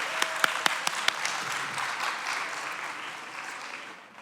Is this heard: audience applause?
yes